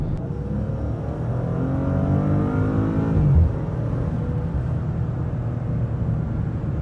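A steady, low engine and exhaust drone of a 2019 Maserati Ghibli S GrandSport heard from inside the cabin, swelling slightly as it revs, then settling into a continuous rumble.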